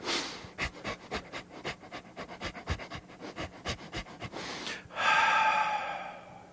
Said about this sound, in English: I would like for you to pant through your nose.